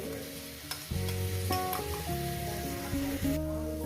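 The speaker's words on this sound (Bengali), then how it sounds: "ভালো করে সুন্দর করে আমি এটাকে ভেজে নেব" Coconut-stuffed snake gourd fries in a pan with a low, steady sizzle while stirring scrapes come through, mixed with sustained tonal background music, moderately quiet.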